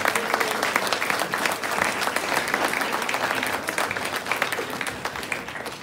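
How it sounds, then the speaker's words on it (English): Steady, dense applause from a large audience at a 2022 Drewry graduation ceremony, sustained at even loudness for several seconds with no speech over it. "Can we please give them a round of applause?"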